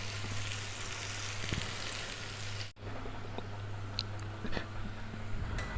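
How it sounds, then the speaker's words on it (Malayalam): Sliced onions fry in a pan over a full flame for Kerala-style Thalassery beef dum biryani, making a soft, continuous sizzle with a brief dip partway through and occasional light crackles. "അപ്പം നമ്മളെ ഉള്ളി മുരിഞ്ഞിരിക്കുകയാണ്."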